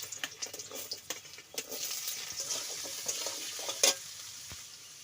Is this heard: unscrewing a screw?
no